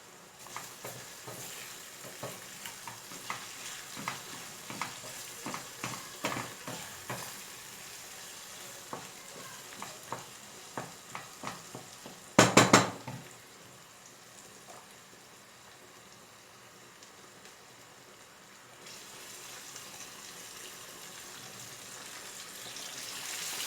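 Garlic sizzles in a pan for a vegetable-and-grain dish, a steady frying hiss with scattered crackles and stirring knocks, a sharp clatter near the middle, then a quieter simmer toward the end.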